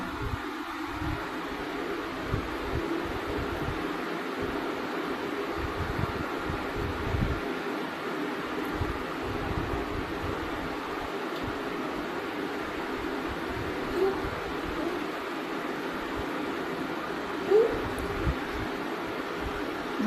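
An electric mixer beats sugar and eggs for a soft vanilla sponge cake, giving a steady, unbroken motor whir close by for the whole stretch, with no voices.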